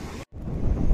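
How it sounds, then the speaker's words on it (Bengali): Brief rush of wind and surf noise at Mandarmani beach in the evening, with a short dropout, then a low rumbling wash of waves continuing. "বিকালে সমুদ্র সৈকত।"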